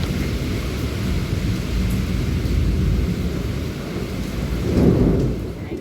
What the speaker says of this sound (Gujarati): તડાકા ને ભડાકા.